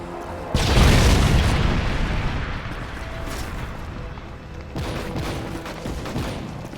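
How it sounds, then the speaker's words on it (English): A Predator missile strike in Modern Warfare 3 lands with a loud, close boom and a long rumbling tail, followed a few seconds later by a second, weaker blast amid game noise. "Friendly Predator missile inbound."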